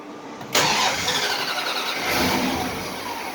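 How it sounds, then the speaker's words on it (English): A broad, steady whooshing roar of the electric cooling fans on a 5.7 Hemi engine car kicks in abruptly and keeps running loudly, with a constant airy rush. "You can hear electric fans going."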